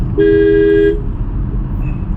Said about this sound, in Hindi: पीछे बस वाला चल रहा है और मुझे हॉर्न दे रहा